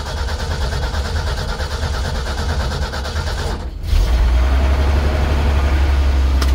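A 1974 Ford truck engine cranks and catches at about four seconds, then settles into a loud, steady low rumble, close by with no talk over it.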